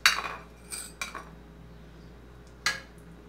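Metal utensils clank and clink against a cooking pot as cooked beef for Sinaloa-style asado is lifted out: a sharp cluster of clatter at the start, two softer knocks, then one more clink later.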